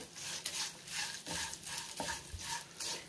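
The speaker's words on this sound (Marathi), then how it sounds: "आता ह्यातच मनुके घालते आणि 1 मिनिटभर परतून घ्यायचे" Raisins are stirred and sautéed in a pan for chivda seasoning, quiet rhythmic scraping strokes with a faint sizzle underneath, close, with no voices.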